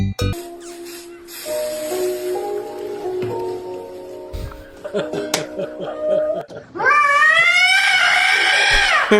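A cat yowls loudly in a long, rising and wavering caterwaul near the end, after a stretch of other tonal sounds and thumps.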